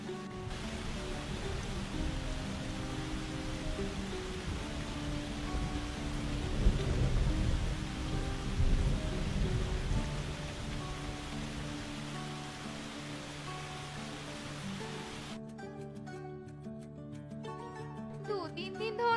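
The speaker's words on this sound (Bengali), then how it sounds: "দু তিন দিন ধরে যে বৃষ্টি হচ্ছে" Cartoon rain pours down as a steady, even hiss with a low rumbling undertone, swelling slightly midway before music takes over near the end.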